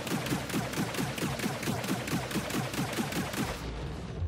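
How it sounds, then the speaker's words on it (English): Ship guns on a Super Hornet fighter fire in Star Citizen, a steady rhythmic stream of loud evenly spaced shots that continues for several seconds before stopping near the end. "Those seem to be shooting really slow compared to previously."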